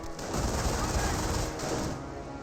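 MG42 machine gun fire in the World War II strategy game Company of Heroes, a dense continuous roar of rapid shots and crashing battle noise for the whole short stretch, loud and close.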